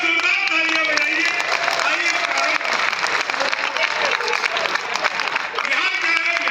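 Sustained, loud crowd applause at an outdoor Hindi poetry gathering at Ramna Maidan in Arrah, Bihar, with dense steady clapping filling the whole stretch.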